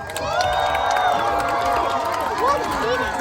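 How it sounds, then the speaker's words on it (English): Spectators at a race cheer and shout loudly, a dense crowd of high excited voices and whoops layered together, with children's shrieks rising above the steady din throughout. "I want you all cheering as loud as you can for them"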